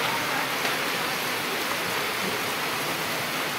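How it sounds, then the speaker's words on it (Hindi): Heavy seasonal rain falls in a steady, dense hiss, close and continuous throughout, with no voices. "इतना तेज बारिश हो रहा है कि पूछे ना।"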